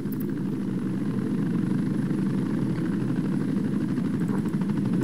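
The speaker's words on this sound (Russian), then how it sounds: "Все вертолеты готовы выполнить боевое задание." Helicopter rotors and engines from the video game Tom Clancy's EndWar drone steadily and loudly throughout, a continuous low thrumming wash with no voices.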